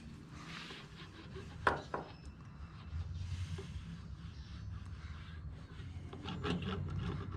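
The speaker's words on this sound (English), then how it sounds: "take your bar of soap, and all you want to do is rub the bar of soap along the edge of your belt" Bar of soap rubbed along the edge of a Harley Davidson Street 500 drive belt, a soft dry scraping and rubbing in repeated strokes, close and quiet, with a couple of sharp knocks early on.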